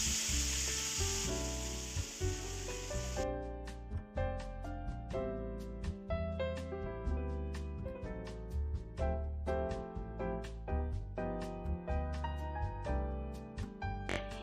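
Bottle gourd peels sizzle in hot oil with black cumin seeds in a wok, a steady frying hiss broken by repeated clinks and scrapes of a spatula stirring.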